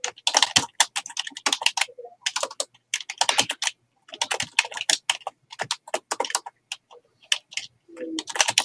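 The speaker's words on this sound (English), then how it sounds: "I'm hitting return, enter, and holding it down to show you that you can type as much as you want in that announcement" Someone types on a computer keyboard, then holds down the return key. Crisp, close key clicks come in irregular bursts with short pauses between them, and no talking is heard.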